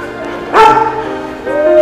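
A small dog at a horse ranch in Bali, Tamsui, lets out one sharp, close bark, then a softer whine-like yip follows near the end against quiet background noise.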